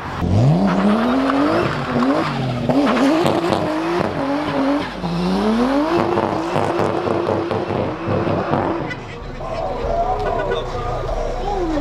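RB25-swapped car pulling away from Ace Cafe on a cold night, its engine revving loudly through rising and falling gear sweeps amid other cars, with people talking over it close by.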